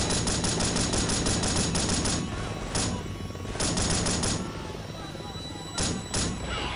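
Rapid, loud machine gun bursts in the video game Delta Force Black Hawk Down, fast rattling volleys over the first two seconds, then shorter bursts over a steady rumble that may be helicopter rotors.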